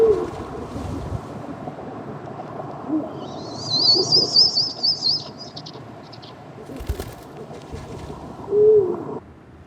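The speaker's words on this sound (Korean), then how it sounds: "수리부엉이 암컷의 소리는 수컷에 비해 톤이 조금 높다." Eurasian eagle-owls hooting in the January mating season from wooded hillside behind a suburban apartment block, with a higher-pitched call from the female; soft repeated low hoots over a steady background hiss, with a brief brighter call in the middle.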